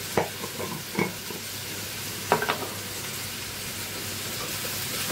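Coriander seeds and cumin are dry-roasted in a pan for a spicy leg-piece curry, with a few close scraping stirs and rattles over a low, steady hiss.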